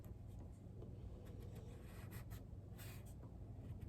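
Pen or marker scratching out handwritten letters of a secret message on paper, a steady soft rubbing with small strokes and pauses, close and quiet against low background hum.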